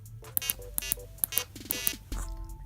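Electronic beeps from a homemade Arduino Uno piano with a potentiometer, before the pitch range is adjusted: a run of short, separate buzzy square-wave notes of varying pitch, close and fairly quiet, with no talking.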